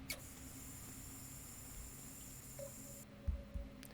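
A faucet runs in the video game Firework, giving a steady hissing stream of water that cuts off after about three seconds. A few soft low thumps follow.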